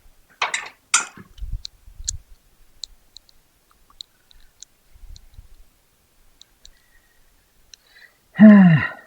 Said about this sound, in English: not too sure what I can get in with the ratchet and what I can't